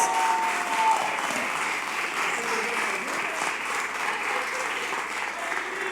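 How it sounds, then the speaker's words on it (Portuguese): A church congregation at a Sunday celebration service applauds, sustained dense clapping at steady volume, with a faint voice briefly audible under it. "Vamos aplaudir o Senhor Jesus."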